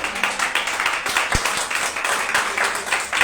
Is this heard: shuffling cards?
no